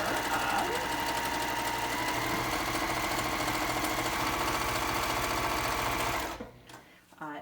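A sewing machine stitches awning scallops in a steady, fast, loud mechanical whir for about six seconds, then stops abruptly, leaving a few quiet handling sounds.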